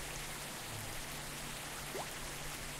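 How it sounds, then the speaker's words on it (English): Steady rain falls in a video game, an even, hissing wash of drops that stays constant throughout at a moderate level. "Let's get out of the fucking rain."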